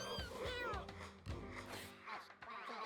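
Cartoonish cat meows and chirpy mewing sounds from the cat-breeding video game Mewgenics come in several quick bursts, faint and mixed with game effects.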